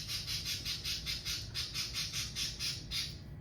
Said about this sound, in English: My birds are having a moment right now.